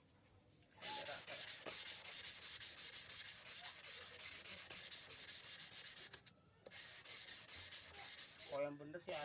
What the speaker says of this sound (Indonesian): kita cari amplas aja yang halusan